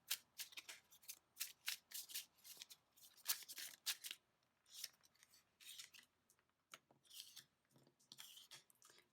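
A small deck of cards is shuffled by hand, producing quiet, close, rapid flurries of papery riffles and slides that continue in uneven bursts with brief gaps.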